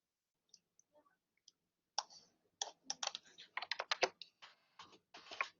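Quick, irregular keystrokes on a computer keyboard as a command is typed into a Cisco switch during an EtherChannel lab, a few sparse taps followed by a dense burst of clicky typing, close and clear with no talk.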